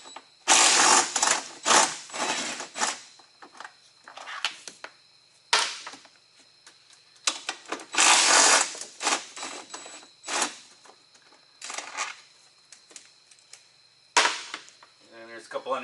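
A ratchet with a 13mm socket removes air cleaner bolts on a Kenworth T680 truck with an ISX15 Cummins engine, sounding in close, repeated bursts of rapid clicking separated by short pauses.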